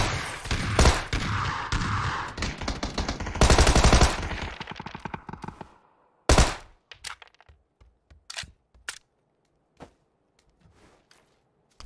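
A Tommy gun fires in the PUBG video game: loud, rapid bursts of automatic gunfire for several seconds, then scattered single cracks and short bursts, some nearer, some more distant, with no talking.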